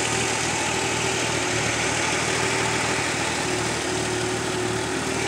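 A Ford 300 inline-six idles steadily as it warms up, with a smooth, even low rumble and exhaust through newly fitted mufflers, close and constant without talk.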